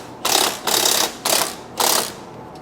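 A socket wrench ratchets on a radius rod bolt of a ZFORCE 950 H.O. EX, giving four evenly spaced bursts of rapid clicking, loud and close, with no voices.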